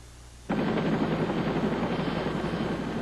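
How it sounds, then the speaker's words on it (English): After a half-second of low hum, a rescue helicopter's rotor roar cuts in loud and close, a thick chopping drone that holds steady to the end. "The helicopter came in."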